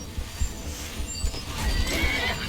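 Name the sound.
horse neighing and hooves in Skyrim video game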